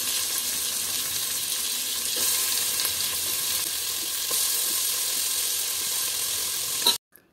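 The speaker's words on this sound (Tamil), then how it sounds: "இப்போ இது கூட நறுக்கி வச்ச தக்காளியை சேர்த்து நல்லா வதக்கிக்கோங்க." Chopped tomatoes with onion and green chilies sizzle steadily in a hot pan, a loud continuous frying hiss with faint stirring scrapes, cutting off abruptly near the end.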